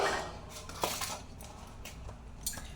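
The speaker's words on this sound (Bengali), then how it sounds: "থালে দিয়ে দিলাম গরম গরম বাটি ভরা ভাত" Hot rice served from a bowl onto a metal thali plate, giving soft, faint clinks and scrapes of dish against dish in a quiet setting.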